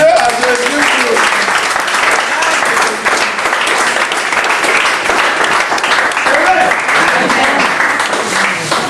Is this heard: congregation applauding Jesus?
yes